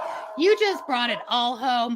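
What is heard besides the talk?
dogs barking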